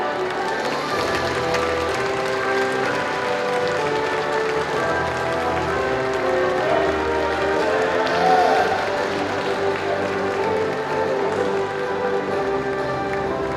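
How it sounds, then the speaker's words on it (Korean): A crowd at a provincial sports festival for athletes with disabilities applauds as a team of 73 athletes enters, a dense continuous wash of clapping heard under a voice and music at steady volume. "양양군 73명 선수단의 힘찬 격려와 응원의 박수 부탁드립니다."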